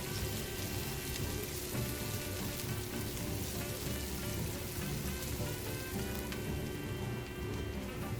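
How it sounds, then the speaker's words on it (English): Chopped onions and pimento or scotch bonnet peppers saute in a hot pan, giving a steady, even sizzle and crackle that runs unbroken and fairly quiet, with no talking. "add in some chopped onions and chopped pimento pepper or scotch bonnet or habanero, and saute until tender and fragrant"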